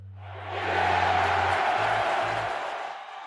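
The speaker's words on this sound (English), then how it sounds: "The crowd goes bananas" A stadium crowd at a long jump roars and cheers wildly, a broad sustained wall of voices swelling up and holding loud before easing slightly, with a low hum underneath.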